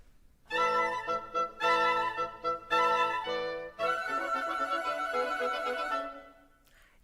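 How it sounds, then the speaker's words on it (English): A full woodwind section, including oboes and bassoons, plays several short sustained chords separated by brief gaps, then swells into one long, rich held chord that fades away. No voices are present. "And now, the full woodwind section sounds like this."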